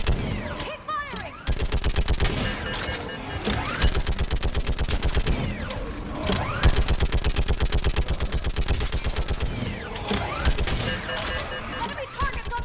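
Sustained automatic gunfire in the Mass Effect 3 battle on Thessia, dense rapid bursts of shots and blasts that run almost continuously and loudly, with voices shouting over the combat.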